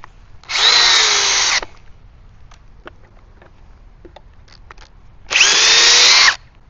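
A Metabo HPT DV36DC cordless drill in drill mode at speed 2, with a fully charged 4 amp-hour battery, drives a 4 inch SPAX screw in two loud, close bursts of about a second each, separated by quieter handling noise.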